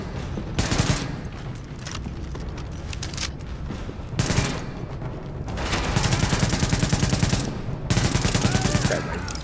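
Rapid weapon fire in The Division blasts against a stairway in several sustained bursts separated by short lulls, loud and close, with the longest volleys near the end.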